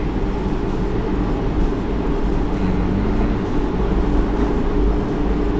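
A Chinese-built electric truck creeps slowly through water around half-wheel deep, kept under 15 km/h. A continuous low rumble and wash runs evenly throughout, with no one speaking.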